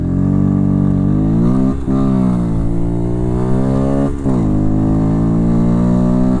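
A Herald Brat 125 learner motorcycle revved hard, its engine note climbing through the revs with two brief gear-change dips, loud and close with airbox noise throughout.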